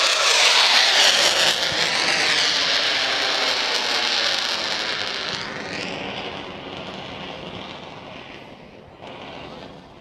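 A Pratt & Whitney engine on an F-35C jet roars at high power during an air show, a loud, broad jet rumble that is strongest at the start and then slowly fades as the aircraft moves away.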